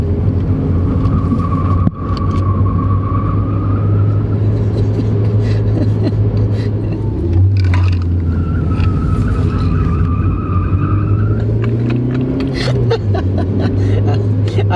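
A car on winter tyres rounds a curve on the Nürburgring, its engine droning loud and close with shifting pitch and some tyre noise, while people talk over it.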